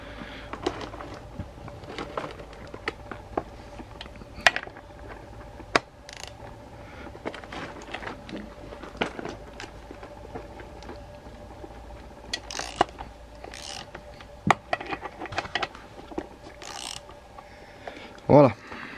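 A 19 mm socket wrench loosens the bar nut on a chainsaw, giving scattered ratcheting clicks and metallic taps at close range over a quiet background, with a sharper clatter near the end.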